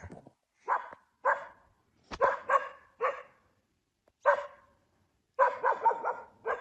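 A dog barks repeatedly in short bursts with uneven gaps, ending in a quick run of several barks; fairly close and clear, no talking.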